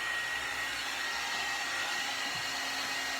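A one-step hair dryer and styler runs steadily at close range, a loud continuous airy whoosh with a faint motor whine held throughout, no talk.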